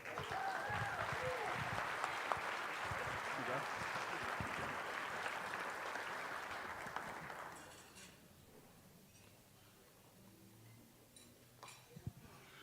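A banquet crowd at a county sports hall of fame induction gives a round of applause for the athletes' parents, full clapping for about eight seconds before it fades to a quiet room with a few scattered claps and clinks.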